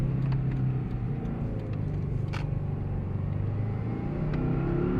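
A Mazda RX-8 drives with a steady, loud engine drone and deep cabin rumble, holding a fairly constant pitch rather than sharp revving, with a faint tick or click partway through.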